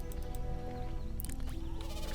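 Sheep bleat in the RuneScape 3 video game, a couple of short game-audio calls layered over continuous background music and effects.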